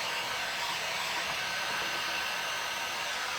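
A hair dryer runs steadily on a decoupaged wood board during a charcuterie board makeover, giving a continuous close airy roar from start to finish with no talking.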